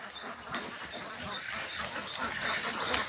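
Outdoor ambience with scattered duck quacks, fairly faint and irregular, over a steady wash of background noise.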